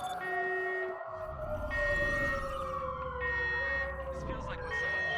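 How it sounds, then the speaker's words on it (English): A wailing emergency siren sounds in the Watch Dogs 2 video game, its pitch sweeping up and down continuously and loud over a low rumble, with voices talking faintly underneath. "This feels like the sound of a fire alarm in high school."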